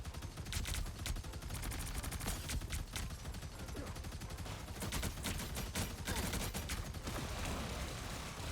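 Punisher's turret in a video game firing rapid sustained automatic bursts, dense rattling gunfire running almost continuously at moderate loudness with brief gaps.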